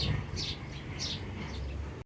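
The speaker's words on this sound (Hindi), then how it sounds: "परिंदों की आवाज़ें आ रही है जी, परिंदों की चहचहाने की।" Faint, sparse bird chirps sound twice over a low background hum at a mini zoo before dawn, distant and brief.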